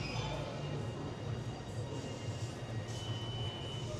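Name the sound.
subway train in Penn Station, New York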